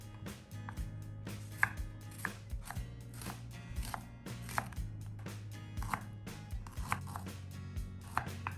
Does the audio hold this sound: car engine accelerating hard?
no